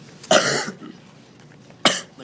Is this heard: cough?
yes